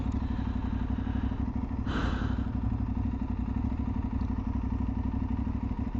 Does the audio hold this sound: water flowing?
no